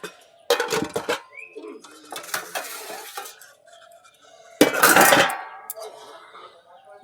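Metal dishes and pots clatter and clink as they are handled and turned over in a home kitchen, with two loud bursts of clanking and quieter rattling between.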